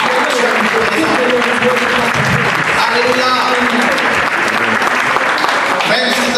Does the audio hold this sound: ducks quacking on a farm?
no